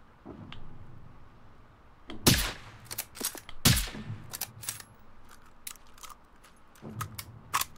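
Rifle gunfire in the video game Generation Zero: several sharp shots, two heavy ones close together early, then a run of lighter cracks and impacts spaced unevenly, loud and near.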